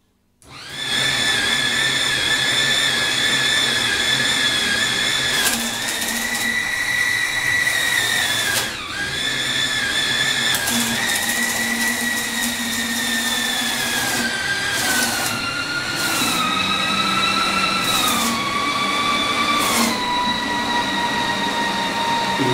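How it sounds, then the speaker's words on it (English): A T-Box IVT gearbox model runs continuously up to about 850 RPM, its steady whine gliding in pitch as the CVT ratio changes, loud and close with no talk. "It's now running at around 850 RPM and can go all the way back to reverse."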